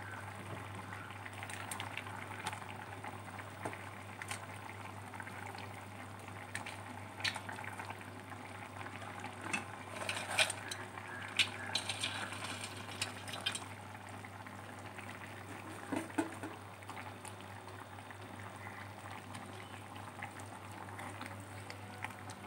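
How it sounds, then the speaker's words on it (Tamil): A pot of tamarind curry with eggplant bubbles steadily at a rolling boil, a continuous close simmering hiss with small pops and a low hum underneath. "குழம்பு நல்லா கொதிக்கட்டும்."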